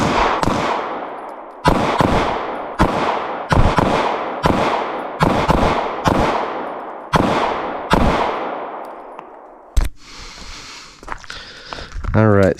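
A Taurus GX4 Micro pistol fires a magazine outdoors, with seven loud, sharp shots at an uneven pace, each one ringing out in a long echoing decay. After the last shot comes rustling and handling noise.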